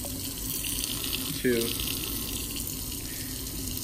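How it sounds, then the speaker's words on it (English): Water runs steadily from a faucet into a sink throughout, a constant close rush, while someone counts aloud briefly over it. "So we're just gonna turn that water on."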